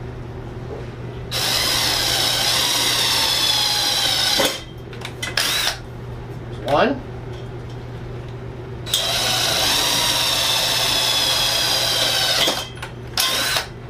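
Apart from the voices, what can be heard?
impact driver drilling holes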